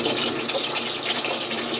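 Water gushes and splashes steadily into a new cooking pot, a close, continuous pouring hiss lasting about two seconds with no voices.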